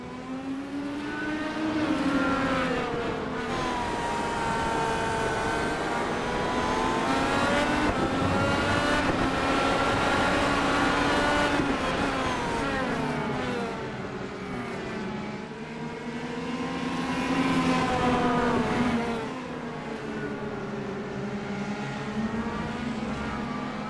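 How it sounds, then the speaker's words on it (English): Race cars in a racing video game at the Indianapolis Road Course roar continuously, engines rising and falling in pitch as several cars rev through gear changes and pass by, loud and sustained without talking. "We're going to let the sounds of the race speak for themselves"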